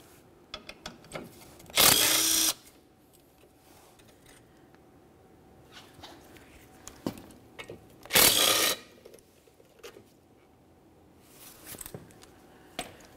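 Two short bursts of a power tool backing out the pair of 8mm bolts on the transmission cooler of a 2002-2005 Ford Explorer, each roughly half a second to a second long, close and loud, with quiet clinks of handling between them.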